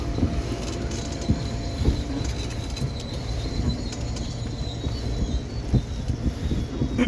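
A KRL commuter train near Jakarta's Sudirman station rumbles steadily from inside a crowded car, with rattling wheels and faint squeals over a constant low drone.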